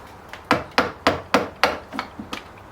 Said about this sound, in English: a rubber mallet is also useful for banging things in